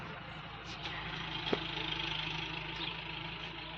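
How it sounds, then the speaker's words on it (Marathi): A tractor engine drones low and faint in a distant, steady rumble that barely swells as it passes. No one speaks while it runs. "ट्रॅक्टर होता का?"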